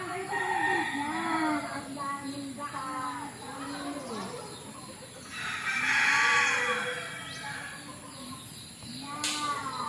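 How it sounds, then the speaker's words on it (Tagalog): Backyard chickens being fed cluck and call repeatedly up close in a busy, overlapping chorus of short, rising and falling vocalizations, with a louder burst of fowl noise midway. "Nagbigay lang tayo ng pagkain sa ating mga alagang manok."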